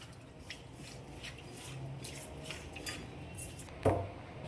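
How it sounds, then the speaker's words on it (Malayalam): Prawns are tossed with salt and spices in a dish, giving soft close clinks and scraping taps against the bowl, faint and irregular, with one sharper knock near the end. "ഇത് നന്നായിട്ട് മിക്സ് ചെയ്യാം."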